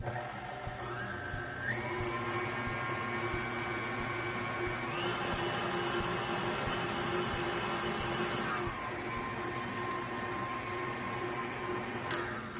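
An electric mixer whirs through molten lava cake batter at a low setting, a steady close motor hum whose pitch steps up and later drops back down as the speed shifts.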